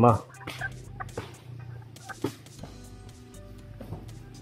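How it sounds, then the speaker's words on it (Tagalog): Heritage chickens kept together with ducks cluck in scattered short bursts at close range, with quiet farmyard background between calls. "Mga pato at saka manok sama-sama dito. Yan, mga heritage chicken."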